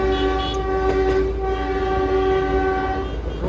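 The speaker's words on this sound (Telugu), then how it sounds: "మేము ట్రైన్లో ఉన్నాం." A vintage toy train on the Darjeeling line rolls along its rails, giving a steady, loud rumble with sustained tonal hum throughout and no talk.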